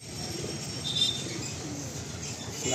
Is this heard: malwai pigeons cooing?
yes